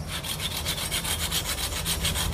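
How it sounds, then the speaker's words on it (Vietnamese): A handsaw cutting through a protruding bougainvillea branch, rapid regular back-and-forth rasping strokes, close and loud, with no voices. "Đánh cưa cái nhánh nó hơi lồi ra"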